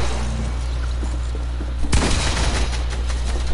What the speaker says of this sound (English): This dude drum gun spamming on